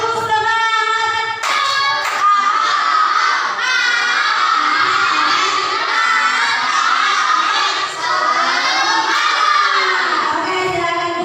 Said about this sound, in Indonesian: satu kali lagi. Tepuk semangat.